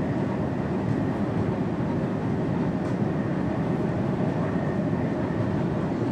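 A train running along London Underground district lines in Train Sim World, a Romford–Upminster line service, gives a steady, continuous rumbling roll with broadband rail noise that holds level throughout.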